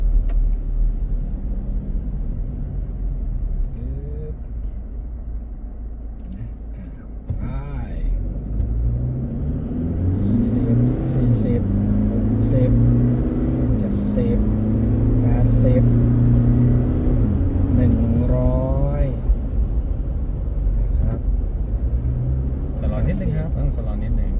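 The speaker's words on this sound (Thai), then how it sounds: "เร่งได้เลยครับ" A Toyota Fortuner SUV pulls hard along a road, its steady engine rumble and road roar swelling as it accelerates, with people talking inside the cabin throughout.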